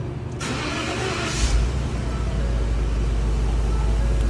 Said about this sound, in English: let's go hit the key and see if this truck starts up